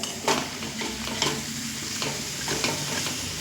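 Pumpkin stalks and a splash of water go into frying masala, giving a steady close sizzle with soft stirring scrapes and a few brighter hisses, no talking.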